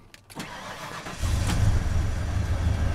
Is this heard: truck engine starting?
yes